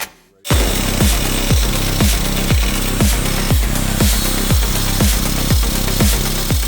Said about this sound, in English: I use a grinder to make the vertical cuts, and to make the horizontal ones, I use a small Dremel